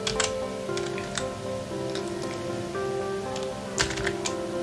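Typing a message on a computer keyboard while setting a spreadsheet alert, scattered light key clicks in uneven bursts over a steady hum, fairly faint and without talk.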